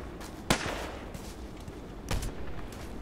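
Rifle shots from the FN SCAR-L in the shooter game Contract Wars, fired at long range: two sharp reports about a second and a half apart, moderately loud, with a faint background hum and no talking.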